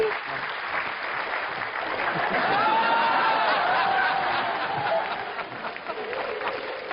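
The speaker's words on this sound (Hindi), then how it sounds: "जोरदार ताली हो जाए" Loud, sustained applause from an audience, mixed with crowd chatter and some laughter, swelling in the middle and tapering slightly toward the end.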